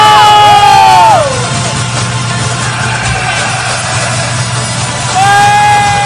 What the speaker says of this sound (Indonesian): Berikan aplaus yang paling meriah untuk Bapak Dudi Widianto